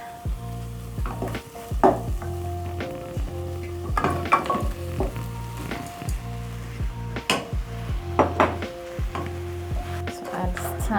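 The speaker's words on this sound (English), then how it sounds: "And now that my tomatoes are well cooked, I'm going to be adding my beef." Beef tipped into a pot of well-cooked tomatoes for a stew, with a steady sizzle and frying beneath repeated clatter and scrapes of a utensil against the pot, close and moderately loud.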